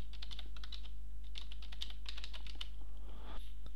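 Typing an email address on a computer keyboard: rapid bursts of close, crisp key taps with short pauses, over a steady low electrical hum and no voices.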